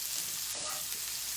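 Garlic and shrimp sizzle steadily in a hot frying pan, a continuous close hiss with faint stirring, no voices.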